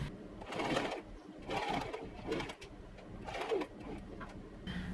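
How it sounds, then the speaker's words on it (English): A sewing machine stitches a cotton dress in short bursts of rapid whirring, about four runs separated by brief pauses, fairly faint and without talk. "So let me go sew this up."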